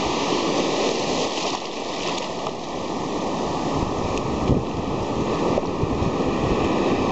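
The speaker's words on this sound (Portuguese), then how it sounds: "olha as ondas." Ocean surf rolls in steadily at Ubatuba beach in Brazil at sunset, a continuous loud wash of breaking waves with some wind rumble and no talking.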